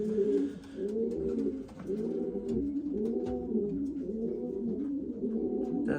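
Racing pigeons coo steadily in a continuous, overlapping chorus of low, rolling calls, fairly close and loud, with no talking.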